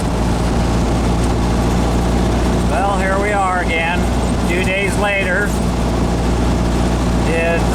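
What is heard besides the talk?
VW 2110 conversion engine running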